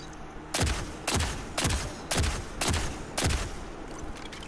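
Ancient Gospel hand cannon in Destiny 2 fires six loud, sharp shots at a steady, fairly quick rhythm, each crack followed by a short decaying boom, with no talking over them.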